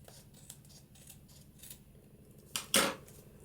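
Scissors snip through papercraft material, with a couple of sharp, close cuts near the end after quiet handling noises, and no one speaking.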